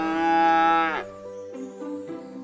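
A cow moos once, long and loud, with a rising, sustained low bellow that trails off into a shorter, lower groan.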